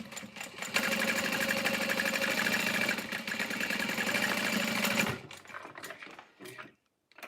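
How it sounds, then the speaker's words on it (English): Sewing machine running continuously for about five seconds while top stitching a slip pocket on a bag, a close, even mechanical whir that stops abruptly, followed by a few faint handling clicks. "So I'm going to top stitch."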